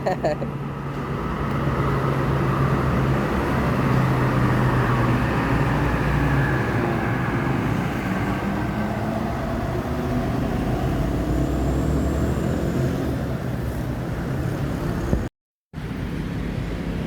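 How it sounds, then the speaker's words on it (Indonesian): Steady engine rumble of an MPM P61 bus with a Laksana SR2 body arriving, close and continuous, with a constant low drone and a brief dropout near the end. "MPM bus Sumbar yang masuk yang keempat ini, MPM P61 pakai bodi Laksana SR2 ya"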